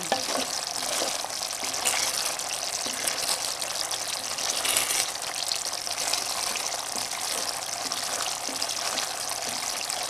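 Coconut milk cooking down in oil into latik gives a steady, dense sizzle and bubbling fry, even and continuous at close range with no talk.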